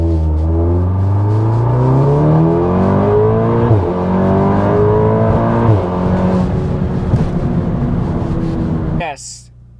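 A big-turbo Audi S3 car engine revs hard and loud through rising gear pulls, pitch climbing and dropping at shifts, close and dominant for most of the clip before cutting off near the end.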